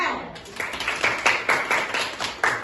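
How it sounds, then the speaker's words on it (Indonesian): Children in a classroom clap for a classmate with about nine to ten distinct, fairly rhythmic handclaps, close by and moderately loud. "Tepuk tangan buat"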